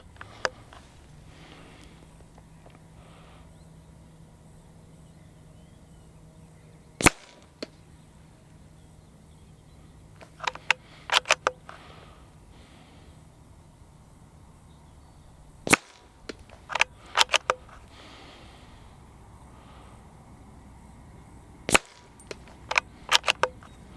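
A CZ 457 Stainless Synthetic .22LR rifle fires shot after shot, each a sharp, close crack. The shots come in small clusters separated by quiet pauses over a faint steady background.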